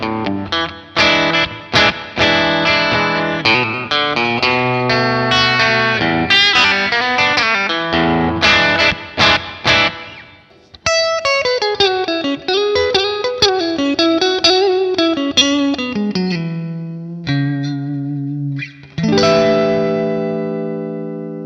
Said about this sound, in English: I mean, this is a great sounding guitar.